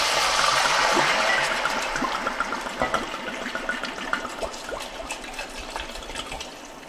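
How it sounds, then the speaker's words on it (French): Monbazillac wine poured over a leg of lamb with onion, cloves and bouquet garni, a steady close splashing stream that thins into trickles and drips over several seconds. "Et on vient verser dessus le Montbazillac."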